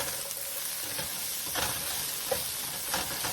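Stuffing cooking in a pan crackles with a dense, continuous close sizzle, broken by occasional scraping stirs and small pops, with no talking.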